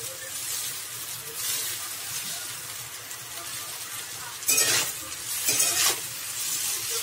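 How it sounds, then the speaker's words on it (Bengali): Boiled chowmein with slit green chilies is tossed and mixed in a pan, a steady soft sizzle with periodic scraping stir strokes, two louder bursts in the second half. "চাউমিনটা ভালো করে মিশিয়ে নেব"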